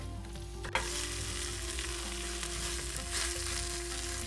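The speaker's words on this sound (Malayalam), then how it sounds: "ഇനി ഇതിലേക്ക് ഞാൻ 1 മീഡിയം സൈസിലുള്ള ടൊമാറ്റോ ചെറുതായിട്ട് അരിഞ്ഞത് ചേർക്കുകയാണ്." Onion and finely chopped medium tomato sautéing in a pan for beef vindaloo, a steady close sizzle and crackle with a brief stir or clatter near the start, no voices.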